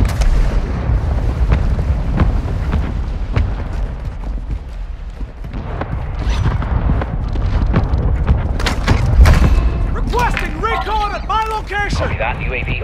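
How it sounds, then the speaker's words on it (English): Mortar strike explosions in Warzone 2 land as deep rumbling booms and blasts, heavy and sustained, with a burst of radio chatter from the game near the end. "Target marked! Mortar strike inbound."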